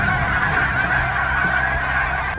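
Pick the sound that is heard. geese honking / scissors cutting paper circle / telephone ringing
geese honking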